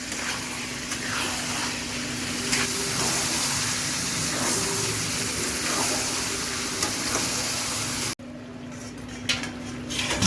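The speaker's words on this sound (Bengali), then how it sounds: "এখন আমি এর মধ্যে মাংস দিয়ে দিব। এটাকে এখন ভালো করে কষাবো।" Chicken pieces stir-fried in a pan for kosha, a steady loud sizzle with occasional spatula clinks and scrapes against the pan, cut off abruptly and followed by quieter stirring, with no talking.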